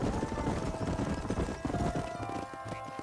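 Horses walking in the Western video game Red Dead Redemption, hooves clip-clopping in a steady repeated rhythm, close and fairly loud, over a continuous background music bed.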